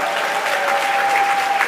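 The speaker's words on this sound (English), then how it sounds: "So give Christopher a round of applause." A short burst of steady crowd applause for Christopher at a financial company convention breakout session, dense and even throughout with no talk over it.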